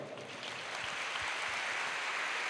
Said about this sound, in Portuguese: Quero palmas para ele.